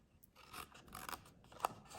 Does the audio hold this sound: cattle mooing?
no